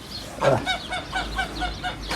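A farm goose, stressed during the first gosling hatching of the year, honks a quick series of nasal calls, close and fairly loud, with a faint low rumble behind it.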